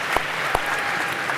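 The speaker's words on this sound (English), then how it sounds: "Okay, big round of applause, Phaedra." An audience claps after a pitch at a competition final, a short burst of steady applause with a couple of louder individual claps.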